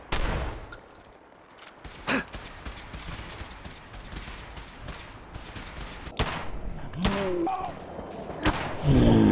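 Gunfire in the video game Fallout 4: scattered sharp shots and thuds ring out over a low ambient rumble, with a few louder bursts near the end and no speech.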